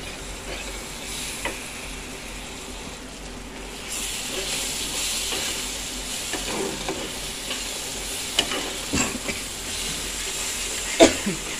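Rajma masala sautés in a pan with a soft, continuous sizzle and hiss, punctuated by scattered clinks and scrapes of a spoon stirring against the metal, fairly close and moderately quiet.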